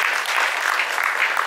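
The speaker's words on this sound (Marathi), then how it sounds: "नक्कीच टाळ्या जरा जास्त जोरात" Steady applause from a theater audience honoring two actors from a Marathi family television serial, continuous clapping throughout with no voices.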